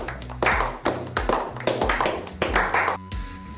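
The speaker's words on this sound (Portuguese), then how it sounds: "Palmas pra ele!" A clapping sound effect: a sequence of about eight sharp, close hand claps in an uneven rhythm over a low musical backing, ending with a steady tone.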